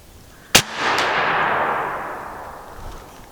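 A single loud crack from an XP airgun in 12 gauge fired at a target, followed by a quick metallic clang and a long fading ring, with no talking.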